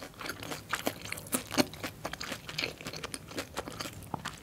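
Close, continuous crunching and chewing of a Korean corn dog dipped in nacho cheese sauce, with dense crisp bites and no talking.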